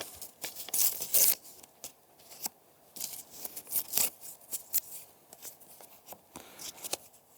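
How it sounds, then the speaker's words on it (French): Yellow paper torn by hand, with repeated close rips and crinkles in an uneven rhythm, some longer tears and some quick short ones, with no talking. "je m'amuse à déchirer"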